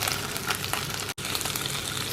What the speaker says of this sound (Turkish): Önce patatesleri böyle biraz yağda kızartıyorum.